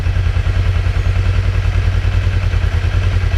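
A Kawasaki 454 LTD motorcycle engine with a newly installed ignition coil, running at a steady idle with a loud, close, even low thrum and rhythmic pulsing throughout.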